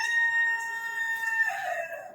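A rooster crows loudly and close, one long drawn-out call that bends downward at the end, with faint clucking from chickens beneath it and no talking.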